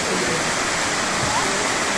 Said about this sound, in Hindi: सीधे थर्ड फॉल्स आ गए हैं